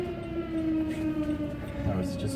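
A Federal Signal Model 7A fire siren sounds an attack signal test in Plymouth Meeting, Pennsylvania, holding a steady, sustained outdoor tone throughout over low background noise.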